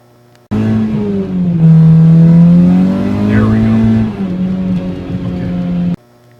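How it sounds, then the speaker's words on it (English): A 2000 Honda Civic EX's 1.6-litre engine revs hard while the worn clutch slips under power, a loud sustained drone that rises and dips in pitch for about five seconds before cutting off abruptly. "the clutch is now slipping under power when he accelerates"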